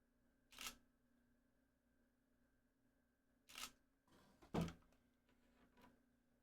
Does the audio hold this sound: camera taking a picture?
yes